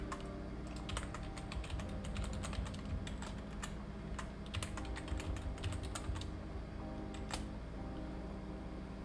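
Computer keyboard keys typed in quick, uneven bursts at close range over a steady fan hum while a password is entered, with no talking.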